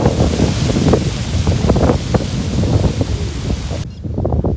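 Strong monsoon wind gusts outdoors just before the season's first rain, roaring and buffeting loudly against the microphone without a break and with no voices.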